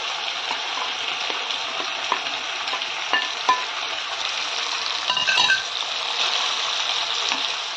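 Vegetables for rui fish chochchori frying in hot oil give a steady, dense sizzle throughout, with occasional clinks and scrapes of a utensil rising above it.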